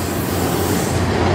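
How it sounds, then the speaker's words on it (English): A Via Rail passenger train rolls past at night in Sarnia, Ontario, a loud, close, continuous roar of railcars with faint wheel squeal. "That's our passenger train for those that aren't Canadian."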